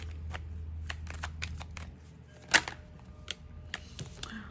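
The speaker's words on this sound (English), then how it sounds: "Let me go ahead and shuffle some more cards right quick." A deck of tarot cards is shuffled up close in soft riffling and snapping bursts, uneven and quiet, with one sharper slap partway through and a low hum underneath.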